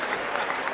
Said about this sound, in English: you can tell it's a good State of the Union because of how much clapping there's been